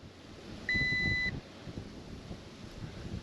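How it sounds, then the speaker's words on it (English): A single steady electronic beep from a Holy Stone HS720R drone remote control sounds for about half a second, clear and close, over faint background noise and wind. "you heard that beep"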